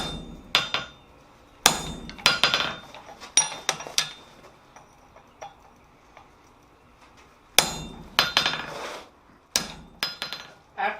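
Hot steel is struck with a hammer on an anvil to cut off a piece while forging a chasing chisel, sharp ringing blows in irregular bursts with quiet gaps between them, close and loud.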